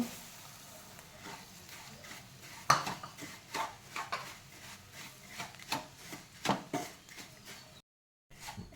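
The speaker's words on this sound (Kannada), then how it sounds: "ರವೆ ಈ ರೀತಿ ಚೆನ್ನಾಗಿ ಉರಿದು ಸ್ವಲ್ಪ ಅರಳಬೇಕದು" Semolina (rava) roasting in a pan with onion and cashews for Bombay rava upma, stirred with a metal spatula: repeated close scraping and clinking strokes against the pan at an uneven rhythm, with no talking.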